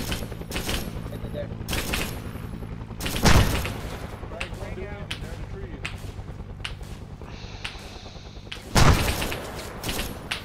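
Two heavy booms from frag grenades going off in a jungle firefight in a video game, one early and one near the end, set against scattered gunshots and clatter while people talk over the action.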